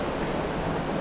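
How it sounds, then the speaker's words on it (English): A small waterfall in the Blue Mountains of New South Wales, Australia rushes in a steady, close, full roar with no pauses or voices. "It's kind of like hidden gem waterfall here in Blue Mountains."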